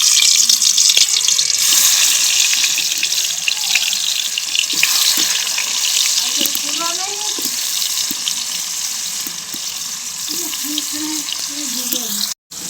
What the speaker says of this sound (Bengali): তো আগে আলুগুলো ভেজে নেব